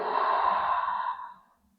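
A single deep, breathy exhale during a relaxing neck and chest self-massage breathing exercise, close and clear, trailing off into quiet.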